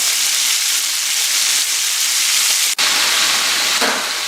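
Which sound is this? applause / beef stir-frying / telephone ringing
beef stir-frying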